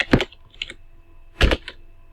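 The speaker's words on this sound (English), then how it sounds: "I've succeeded in typing a text" Two short bursts of typing on a computer keyboard while entering text in a Corel Draw design tutorial, clattering keystrokes near and clear with a quiet pause between the bursts.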